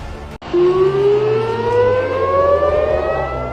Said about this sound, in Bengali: হঠাৎ করেই বাজতে শুরু করেছে সাইরেন।